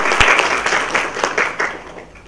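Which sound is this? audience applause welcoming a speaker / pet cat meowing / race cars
audience applause welcoming a speaker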